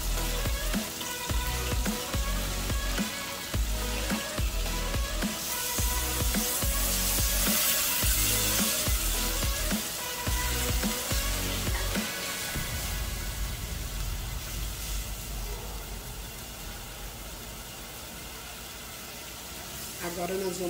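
Onion sautés in butter and olive oil in a hot pan, a steady crackling sizzle with scattered pops and clatter from stirring early on, fading slightly toward the end.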